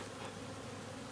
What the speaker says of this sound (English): we're here with some bees